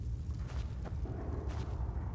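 Explosion effect from the Dawnbreaker sword in Skyrim, a rumbling boom with a couple of bursts and a low sustained roar through the short stretch.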